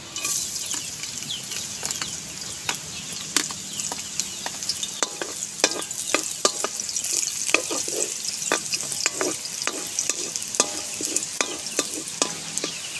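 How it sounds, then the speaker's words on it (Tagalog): Garlic sautéing in hot oil for a fresh miki noodle dish, a close, constant crackling sizzle broken by frequent sharp clicks and scrapes of a utensil against the pan. "gigisa na po tayo ng bawang"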